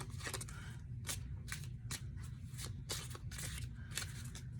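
A small tarot deck being shuffled in quick, repeated riffles, each a short crisp burst, with a steady low hum underneath.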